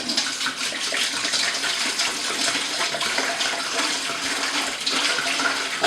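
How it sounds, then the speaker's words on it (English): Bottled water poured from a 5-gallon jug into a large turkey roaster, a steady close gushing splash that fluctuates slightly as the stream glugs, continuous throughout with no voices. "Let's pour in half of this bottle, which is a 5-gallon jug."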